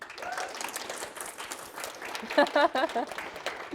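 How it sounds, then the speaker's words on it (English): Steady applause from an audience after a keynote talk, dense clapping throughout, with a few louder bursts of cheering near the end. "Can we please give a round of applause for Tim?"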